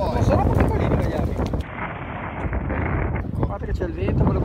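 Strong wind blasts across the microphone out fishing at sea, a loud constant roar that briefly eases mid-clip before rising again.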